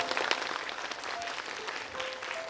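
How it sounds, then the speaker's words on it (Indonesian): Audience applause at a live event, a steady wash of clapping from a crowd at moderate level with a few faint voices mixed in, lasting throughout. "Boleh kita berikan tepuk tangan untuk Ibu Jamil?"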